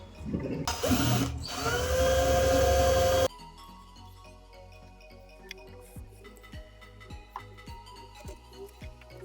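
A small drill bores a hole in a board for wiring a Bluetooth audio board to a home theater. It gives one loud whirring burst of about two and a half seconds, then quiet follows with faint light ticks.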